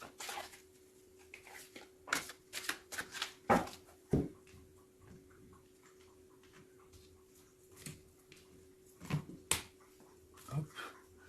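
Tarot cards being cut and shuffled by hand during a French tarot reading, giving scattered sharp snaps and soft riffling clicks in uneven bursts, close and fairly quiet, with a steady low hum underneath.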